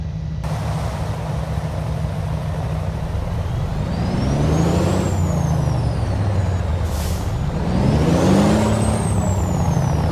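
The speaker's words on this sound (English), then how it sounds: "Nice engine." A logging truck engine rumbles loudly and steadily up close, swelling twice as the revs rise and fall.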